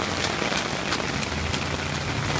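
Steady patter of rain hitting a Fuji XF 18-135 weather-resistant lens close by during a rainstorm, a constant hiss with scattered drop taps, no voices.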